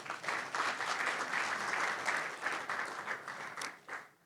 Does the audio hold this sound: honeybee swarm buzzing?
no